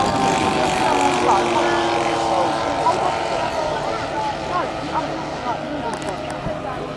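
A model aircraft flies at a 2014 model aircraft show at Blackbush, its engine drone loud and steady throughout and fading slightly toward the end, with faint talk in the background.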